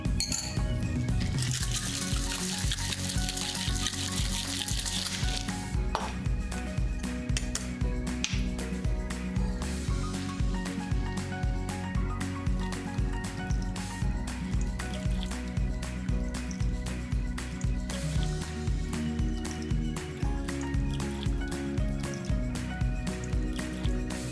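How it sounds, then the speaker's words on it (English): Ice rattles rhythmically inside a cocktail shaker as a Cosmopolitan is shaken hard, a loud, continuous chunky clatter with steady beats lasting well over twenty seconds. "Cover, shake, and then have your glass at the ready."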